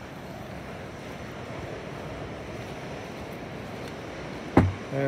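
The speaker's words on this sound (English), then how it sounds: "I don't know whether you can hear the sea roaring." Sea waves roll onto a beach in choppy conditions with the tide out, a steady low roar blending with wind across the microphone, broken by one brief knock near the end.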